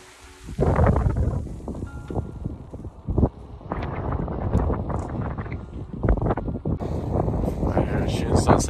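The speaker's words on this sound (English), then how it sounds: "It's hella windy." Strong wind roars and buffets a microphone outdoors at sunset in cold central Oregon, with loud continuous gusts and rumbling bursts throughout and no talking.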